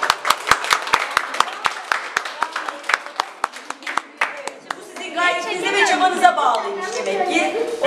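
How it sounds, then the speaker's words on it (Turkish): Applause at a chess tournament: a brief burst of crisp, close handclaps in a quick, uneven rhythm that fades out, followed by people talking and chattering. "Bilinen notasyonu bir alkışlayalım."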